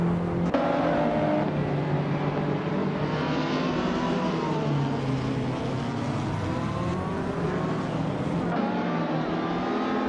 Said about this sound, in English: driving a 1988 Peugeot 205 Rally